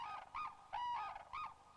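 Japanese cranes calling in a duet in Hokkaido, four loud honking, trumpet-like calls in quick alternation, close and clear against a quiet background with no speech.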